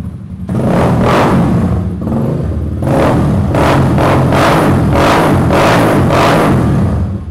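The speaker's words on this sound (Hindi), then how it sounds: "इसके अंदर एग्जॉस्ट दिया गया है और प्रॉपर हैवी बाइक साउंड है इसका" A heavy motorcycle engine revs loudly and repeatedly, its exhaust roaring in rising and falling surges, close up with no voices.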